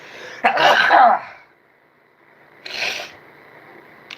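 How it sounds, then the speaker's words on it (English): A single person sneezes close by, a sudden burst that fades into quiet, followed by a softer breathy exhale or sniff. "I'm going to sneeze."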